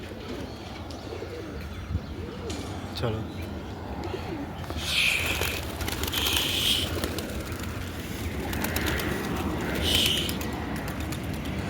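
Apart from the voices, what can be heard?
pigeons cooing and being released to fly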